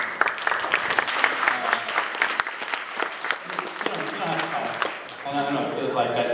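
Convention Q&A audience applauding for several seconds, dense clapping with a voice talking over it and the clapping thinning toward the end.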